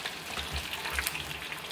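Cauliflower buffalo cheese balls frying in vegetable oil give off a steady, close sizzle with a few low bubbling pulses.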